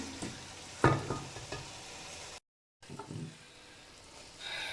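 Chicken keema being stirred as it fries in a pan, a soft steady sizzle with a couple of louder scrapes of the spoon, close and alone with no talk.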